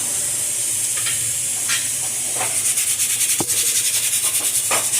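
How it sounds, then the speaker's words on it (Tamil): Bitter gourd sautéing in a kadai over a medium flame, giving a continuous close sizzle and hiss with intermittent stirring scrapes. "மீடியம் ஃப்ளேமில் வச்சு இதை வதக்கிட்டே இருக்கணும்"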